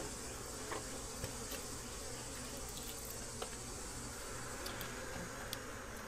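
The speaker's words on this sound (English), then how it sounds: "Plenty of bees down here." Caucasian honeybees in an open hive during an inspection make a quiet, continuous drone of buzzing wings. Occasional individual bees fly close past, and no one is speaking.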